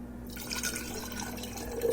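Beef broth pours and trickles quietly into a container, with soft dripping and splashing throughout.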